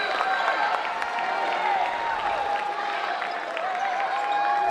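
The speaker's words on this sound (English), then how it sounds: "that one gets the Red Leaf crowd up on their feet" Arena crowd at a women's college basketball game, Red Leafs versus Northwest Nazarene, applauding and cheering after a blocked shot; a steady wash of clapping and cheers that holds throughout.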